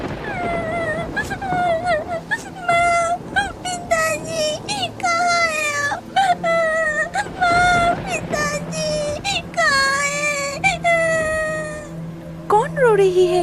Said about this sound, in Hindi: एक छोटी सी लड़की की रोने की आवाज आती